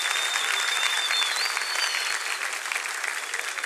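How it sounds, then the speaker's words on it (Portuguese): A church congregation applauds in a brief, dense burst of many hands clapping, steady and moderately loud with a faint tonal ring above it and no speech. "pode aplaudir Jesus"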